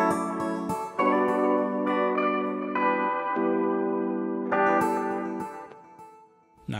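Afrobeats instrumental built in Logic Pro X from a guitar sample, e-piano, classical guitar and drums, playing as a full mix with sustained chords and steady beat, no talking.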